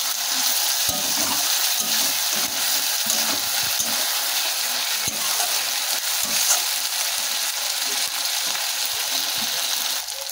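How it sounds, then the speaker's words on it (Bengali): Mutton masala with chopped tomato sautéing in a pan gives a continuous close sizzle, with repeated low scraping and stirring knocks underneath, steady and fairly loud for the whole stretch. "এতে টমেটো কুচি একটু দিয়ে দেবো, দিয়ে এটাকে আমরা ভালো করে কিন্তু কষিয়ে নেব আগে"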